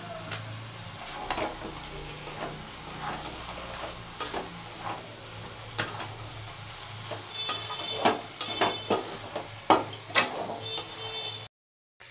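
Prawns added to Malabar spinach cooking in a pan give a steady close sizzle, with scattered stirring clicks and utensil taps that get busier toward the end, and no talk.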